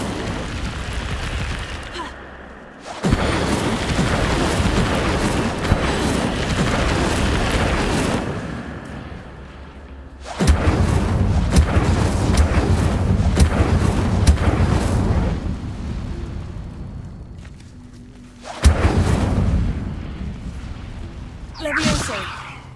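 Incendio fire spells in Hogwarts Legacy erupt in roaring bursts of flame and booming explosions, long loud rumbling waves separated by brief quieter gaps, with a voice calling out spell names.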